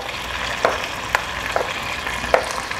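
BBQ sauce with roughly chopped tomatoes, skins left on, bubbling and boiling in a pot: a steady close sizzling hiss with a few sharp pops and spatters breaking through, no talking.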